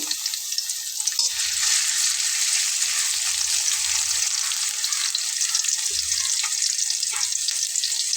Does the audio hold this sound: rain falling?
no